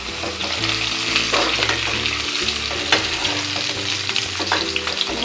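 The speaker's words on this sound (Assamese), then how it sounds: "মিডিয়ামত ৰাখি পিঁয়াজখিনি অকণমান ৰঙচুৱা হোৱালৈকে ভাজিছোঁ" Onions frying over a medium gas flame with cinnamon, cardamom, dried red chillies and bay leaves, a loud, continuous close sizzle with intermittent stirring scrapes and no talking.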